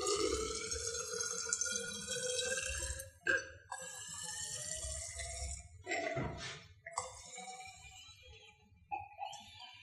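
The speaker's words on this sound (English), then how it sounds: "We will now measure 100 ml of distilled water in a measuring cylinder." Distilled water is poured from a container into a laboratory measuring cylinder during a chemistry lesson, giving a steady, quiet trickle and splash with a few brief interruptions and no talking.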